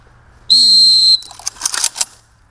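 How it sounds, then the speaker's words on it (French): A sharp, loud whistle blast sounds once during a private security guard training exercise, followed by clattering and rustling as trainees move, heard close with no voices. "Double coup de sifflet."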